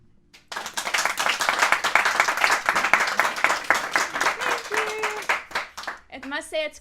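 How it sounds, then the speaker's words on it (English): An audience claps after a live pedal harp concert, a dense burst of applause that starts abruptly and continues steadily before fading, followed by a brief spoken voice at the end. "I must say it's quite fun to have real clapping this time"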